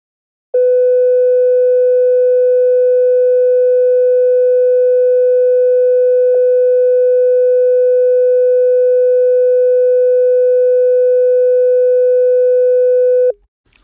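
A steady, loud 500-cycle test tone played back through an analog tape machine, sustained for about thirteen seconds with a brief click midway and abrupt start and stop.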